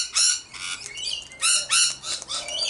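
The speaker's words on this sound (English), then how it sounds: "the lorikeets will come in and pinch the seed if I put it down" Lorikeets squawking at feeding time in Nerang, harsh, shrill bursts in several loud clusters close by, with quieter chirps in between.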